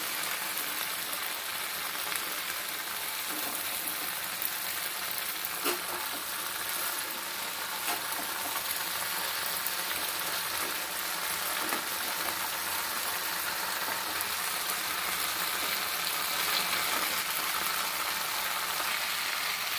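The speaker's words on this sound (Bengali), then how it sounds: "নাড়িয়ে নাড়িয়ে ফুলগুলোকে একটু ভেজে নিতে হবে" Flowers frying in a pan for jujube pickle, a soft, steady sizzle with faint scraping and clicking from stirring, continuing at a low level throughout with no talk.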